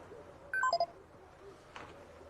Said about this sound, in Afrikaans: n SMS van Tenis af